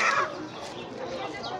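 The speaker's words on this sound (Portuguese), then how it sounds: "Olha aqui a galinha gorda." A chicken clucks and squawks at a busy outdoor poultry market, its sharp call loudest at the start, then softer clucks under distant chatter and market noise.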